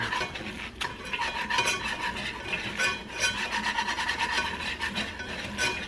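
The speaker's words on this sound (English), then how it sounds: "Make sure you're whisking it constantly." Whisk scraping and stirring breakfast sausage gravy in a pan gives a constant rhythmic metallic rasp with quick repeated strokes, close and clear, with no talk.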